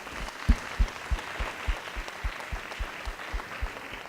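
An audience at a school district's State of the School address claps in a steady rhythmic beat, soft thuds repeating about three times a second over a faint wash of scattered applause.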